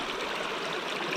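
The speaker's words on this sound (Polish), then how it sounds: "woda dosyć żwawo zasuwa przez to korytko" Water rushes briskly through a gold sluice box at a riverside site, a steady, close, full wash of flowing water with no voices.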